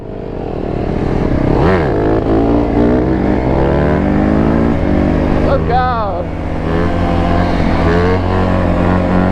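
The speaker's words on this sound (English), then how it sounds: "Just the sound of a 150, they just sound so nasty and mean for being such a mini bike" A 150cc mini dirt bike engine revs hard and loud with rising and falling pitch sweeps, rough and aggressive, while people talk and cheer over it.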